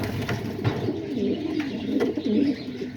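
Inside a loft, homing and roller pigeons produce a steady chorus of low, throaty coos close by, with soft taps and shuffling mixed in.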